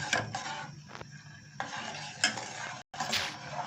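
Homemade golden syrup cooking down in a pan, stirred with a utensil that scrapes and clinks against the metal in uneven strokes over a soft bubbling hiss, fairly quiet and close, with a brief dropout.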